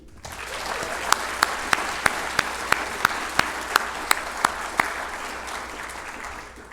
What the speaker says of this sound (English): So everyone, how about a huge round of applause for Jesse?